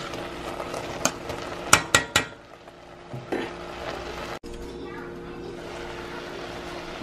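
Onions cooking in a pan, heard as a low, steady sizzle broken by a few sharp clinks and scrapes of stirring early on, then quieter frying.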